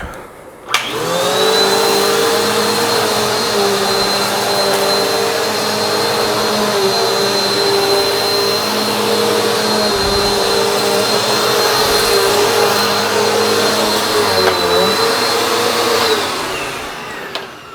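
A Bissell AeroSwift vacuum cleaner picks up dirt, its motor starting with a click and holding a loud, steady whine with a high tonal hum for about fifteen seconds before spinning down, close to the microphone.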